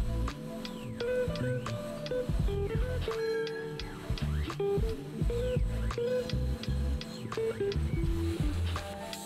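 A CNC machine runs a sawing operation on a part, the last step after facing, drilling holes and counterbores, and engraving, producing a steady, busy mechanical clatter with whines and ticks throughout, close and continuous.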